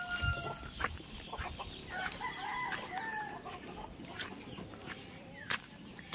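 Chickens on a Philippine farm clucking and calling near and far, with a rooster crowing amid scattered bird sounds and faint background noise.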